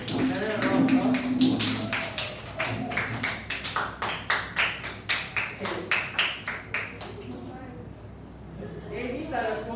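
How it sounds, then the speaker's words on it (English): A class gives a round of applause, with a string of evenly spaced, crisp claps that gradually thin out. A voice talks over the start. "Give another round of applause."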